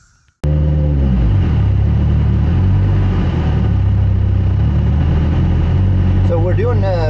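A rally car engine starts up and runs steadily, loud and close, with a low harmonic drone holding for several seconds ahead of a parade lap at an SCCA RallyX event.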